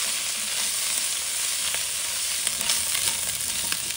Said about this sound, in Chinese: 就把处理好的鸡爪倒进去，翻炒一下，把鸡爪水分炒干净